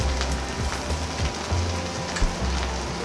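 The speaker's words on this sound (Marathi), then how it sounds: "लाल मसाला छानपैकी परतून घ्यायचा" Red masala spice paste sautéing with sprouted moth beans for Kolhapuri misal, a steady dense sizzle and crackle close to the pan, continuous and even throughout.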